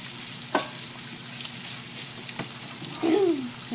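Red, yellow and orange peppers with shallots frying in a pan, a soft continuous sizzle with faint taps as they are stirred, and a brief tonal squeak toward the end.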